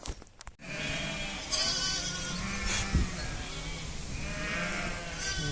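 Sheep bleat during shearing on a farm, a few soft calls rising from a steady background hum and shuffling.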